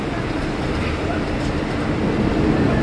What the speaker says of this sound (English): Hello, Monorail Orange.